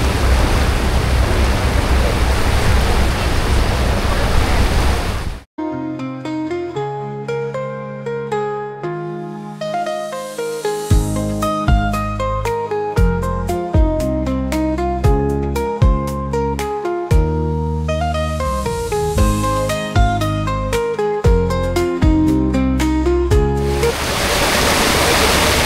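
Churning water rushes loudly behind an electric water metro ferry on the river near Kolkata's Millennium Jetty. It is a steady roar at the start and end, with melodic music filling the long middle.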